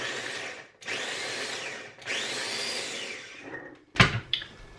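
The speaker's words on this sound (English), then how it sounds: "I'm going to put it straight into my ninja, put the lid back on and blend" A Ninja blender chops onions in loud, steady whirring bursts, three runs separated by brief pauses, followed by a few sharp clunks as it stops.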